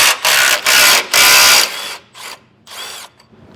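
A power tool, likely an impact driver, spins off the 15mm bolts of the skid plate on a 2021 Ford F-150: three loud, close bursts of whirring, then two shorter, softer runs with brief pauses between.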